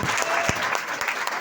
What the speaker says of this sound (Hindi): अब इसमें ताली बजाने वाला कौन सा मामला था भाई?